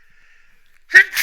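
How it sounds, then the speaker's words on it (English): A single sharp human sneeze bursts out near the end after a near-silent stretch, close and fairly loud, with a faint steady tone in the background before it. "And I need to sneeze."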